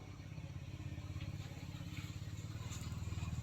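A motorcycle passes by a house, its engine chugging in a rapid pulsing rhythm that grows gradually louder, heard from indoors at moderate distance.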